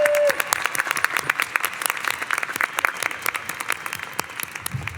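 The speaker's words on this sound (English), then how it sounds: "a round of applause for the MSL graduates" Audience applause for law school graduates at a diploma ceremony, a steady crowd of claps continuing evenly throughout.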